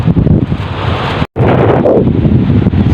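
Strong northeast monsoon wind sweeps over a shoreline at dawn, buffeting the microphone with loud, continuous gusty roar and surf-like rushing, broken by one brief dropout near the middle.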